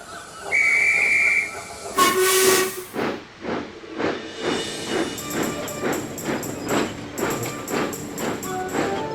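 A steam whistle shrieks in a Trainz railway simulation, followed by a burst of hissing steam and the rhythmic chuffing of a locomotive pulling away.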